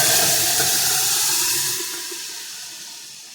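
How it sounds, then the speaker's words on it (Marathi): Cooked dal poured into a hot tempering pan with asafoetida and no oil gives a loud, close hissing sizzle that fades steadily over a few seconds. "मी तेल न घालता इथे वरण फोडणीला घातलेलं आहे"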